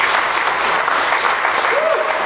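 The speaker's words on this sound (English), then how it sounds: "can we have a round of applause for everybody here?" A panel-discussion audience applauds steadily throughout, a dense wash of clapping with a brief voice rising over it near the end.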